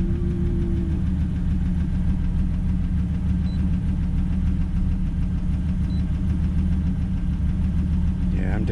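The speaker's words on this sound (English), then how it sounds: "Definitely hearing the tap, tap, tap, tap." A Ford engine idles up close with a steady, even drone and a rapid tapping knock running through it, while someone talks over it partway through.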